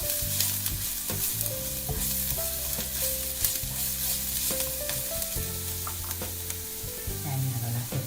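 Onion frying in a pan over medium heat for mussels a la marinera, a steady close sizzle with the scrape of stirring running throughout.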